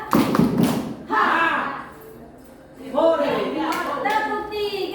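Schoolchildren clapping together in a counted classroom clap pattern, with bursts of group claps and thumps separated by a short quiet gap, and voices calling out among the claps.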